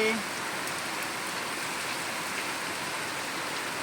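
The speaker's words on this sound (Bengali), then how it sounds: "অনেক জোরে জোরে বৃষ্টি হচ্ছে," Torrential rain falling hard outside, heard from indoors by a window as a steady, thick wash of drops that holds an even level throughout.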